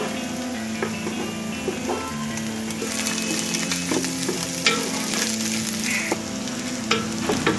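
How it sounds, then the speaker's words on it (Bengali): An egg seasoned with ground black pepper fries lightly in a pan while cooking noodles, giving a continuous close-up sizzle and spitting crackle with faint scrapes, and no voices over it. "এবার একটু গোলমরিচের গুঁড়ো, ডিমটিকে হালকা ভেজে নেব।"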